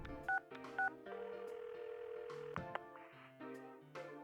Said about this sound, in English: I'll dial Yosuke-kun's number.